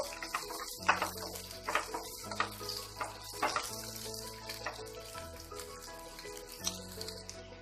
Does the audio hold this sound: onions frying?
yes